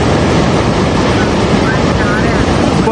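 Fast-flowing floodwater rushes through the Park View Society housing area of Lahore, a loud, dense, unbroken roar with no pauses, heard close to the torrent.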